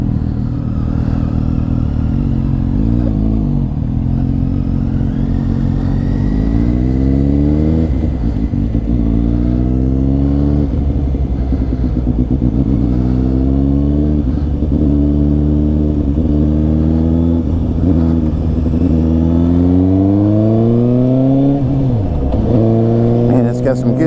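An Indian FTR 1200 or Suzuki GSX-S750 motorcycle on a test ride, its engine loud and close as it climbs repeatedly through rising revs with gear changes in a steady cycle.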